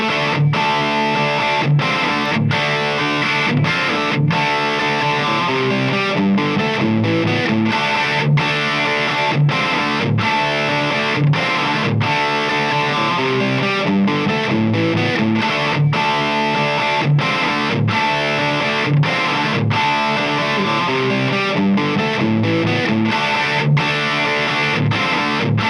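Electric guitar fitted with Ibanez pickups playing through heavy distortion, a thick saturated tone riffing steadily with short rhythmic stops, loud and close throughout with no talk.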